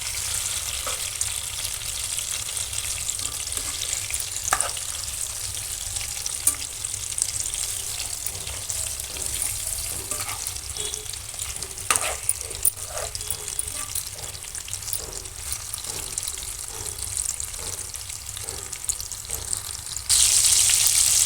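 Fish frying in a pan after being flipped, giving a continuous steady sizzle with occasional faint clicks and spatters, no talking.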